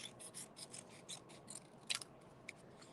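Scissors trimming a snake shape for a woven piece, a quiet series of small snips and paper rustles at close range, no voices.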